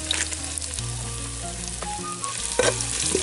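Whole cumin, bay leaf, red chili and finely chopped ginger fry in hot oil for a village-style pork curry, giving a loud, continuous close sizzle with occasional stirring clatter and sharp crackles.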